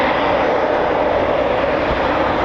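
Loud, steady roar of a Eurofighter Typhoon FGR4 jet at RAF Coningsby, a broad continuous engine rumble that stays close and even for the whole stretch, with no talking.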